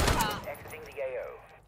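Gunfire in Call of Duty MW3 with a BAS-B rifle opens with a brief, dense burst of shots that fades into a lingering tonal whine and faint ringing.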